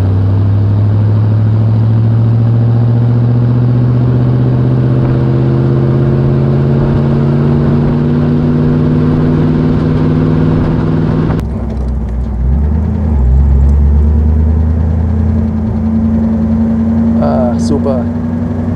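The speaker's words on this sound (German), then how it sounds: "Kompressor Mercedes bei dem Wetter zu fahren ist aber was ein ganz besonderes Erlebnis" A supercharged eight-cylinder 1934 Mercedes 380 Cabriolet drives along with a loud, steady engine drone whose pitch climbs gradually, then drops with a gear change and builds again, while someone talks over it in German.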